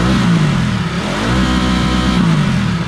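A Ducati motorcycle engine revs loudly and close up through its exhaust, a deep throaty roar that swells, dips slightly around the middle, then rises again, with no voices.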